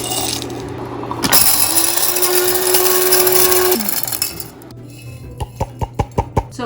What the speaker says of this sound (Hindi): ये हो गए रोस्टेड, इनको करेंगे ऑफ, और इनको हम क्विकली ग्राइंड कर लेंगे।